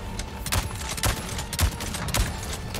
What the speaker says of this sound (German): Schieß du deine Pumpgun und dann schieß ich.